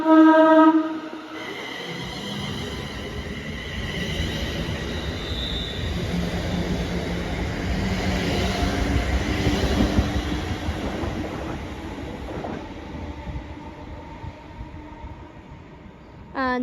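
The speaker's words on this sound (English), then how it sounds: "here goes 380, 103 going to Glasgow Central" A Class 380 electric train heads for Glasgow Central past Paisley Gilmour Street station. A horn sounds at the start, then a loud, close rumble of wheels with faint squeals fades slowly.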